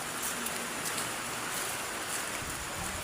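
Rain falling outdoors as a steady, soft hiss with faint scattered droplet ticks, continuous at moderate level with no talk.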